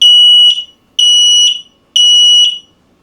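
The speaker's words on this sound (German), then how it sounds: "auch hier kann ich eben Alarme auslösen an einem Gerät und alle anderen werden ebenfalls" Networked X-Sense Link+ wireless smoke alarms in a home sound together in a loud, piercing, high-pitched pattern of three evenly spaced beeps, with no one speaking.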